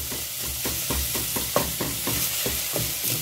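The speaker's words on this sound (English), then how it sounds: "Then our onions. We need our onions fried," Onions frying in a pan for a soft fried liver recipe, a steady close sizzle broken by regular scraping stirs about every third of a second, with no talking.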